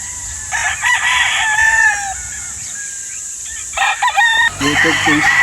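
Chickens at a spacious farm in San Pablo, with a rooster crowing in two loud, close bursts of harmonic calls separated by a quieter stretch of clucking and farmyard background.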